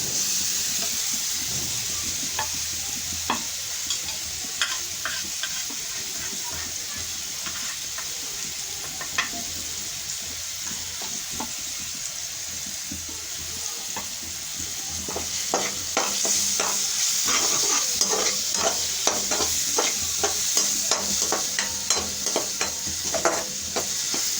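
Spices and tomato fry in a pan for shakshuka, giving a constant hiss of sizzling oil. A utensil stirs and scrapes the mixture with frequent clicks, and the scraping grows busier and louder in the second half.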